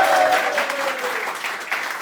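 A crowd applauds during a French livestream celebration, steady clapping filling the whole stretch with a faint tonal tone fading in the first moments beneath it.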